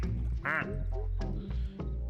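A plastic duck in Placid Plastic Duck Simulator gives one loud, bright quack, followed by a few softer squeaks and game sounds over a low hum.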